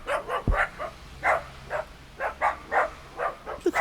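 Dachshunds bark in the snow, a series of sharp, mid-distance yaps in irregular bursts with short pauses between them and a brief thump near the start.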